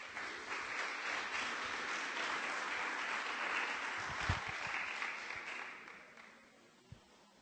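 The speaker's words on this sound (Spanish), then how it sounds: "un fuerte aplauso de bienvenida, por favor" Audience at an art and culture symposium giving a warm welcome round of applause, sustained dense clapping that gradually thins and fades out near the end.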